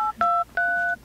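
Two telephone keypad tones sound in quick succession, each a clean electronic beep held for a fraction of a second, loud and close with nothing else over them.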